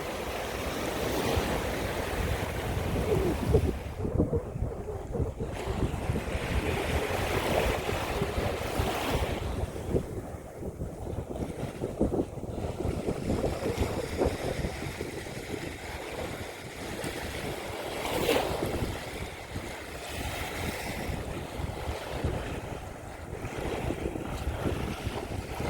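Steady ocean surf washes along a beach north of Pescara on the Abruzzo coast of Italy, a continuous broad roar with rolling surges and heavy wind buffeting the microphone throughout, no voices.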